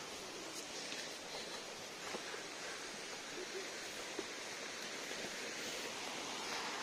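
Water flowing steadily from a spring in a forest, a continuous rushing trickle with faint rustling, quiet and constant with no voices over it.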